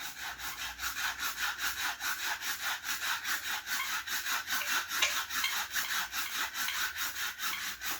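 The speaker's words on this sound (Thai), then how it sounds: "เลื่อยให้ขาดออกไปเลย" Steady back-and-forth sawing through a wooden broom handle, a rhythmic rasping stroke repeated quickly and evenly, close up with no talking.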